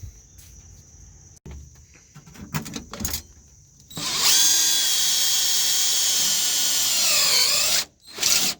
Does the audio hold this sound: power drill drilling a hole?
yes